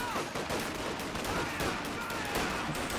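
Company of Heroes 2 Grenadiers firing together, a continuous dense rattle of rifle and machine-gun shots with no gaps, steady and fairly loud throughout.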